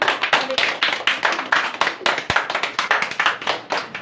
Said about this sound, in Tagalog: Minsan pa, palakpakan po natin ating Diyos.